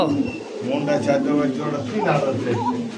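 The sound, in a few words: Shalik Kokka pigeon cooing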